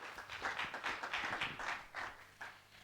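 An audience at a Christmas fellowship gathering claps for a speaker, faint and distant, with distinct pulsing bursts of hands rather than a full roar.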